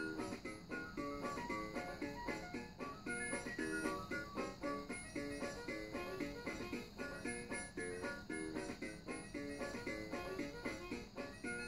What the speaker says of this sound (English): Awesome. Ice cream truck song.